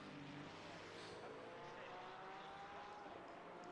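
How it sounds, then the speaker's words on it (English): A Porsche flat-six race car in a simulated endurance race at Valencia, its engine note rising and falling through gear changes at moderate distance, steady and unbroken. "That Porsche flat 6 kind of screaming every so often."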